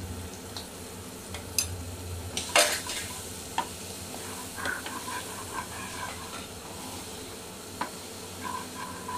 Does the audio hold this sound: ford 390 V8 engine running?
no